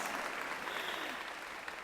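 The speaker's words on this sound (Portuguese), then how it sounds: "vamos aplaudir essas alunas bonitas" Audience applauding the women students at a Catholic women's prayer gathering, steady dense clapping that holds evenly for the whole stretch with no break.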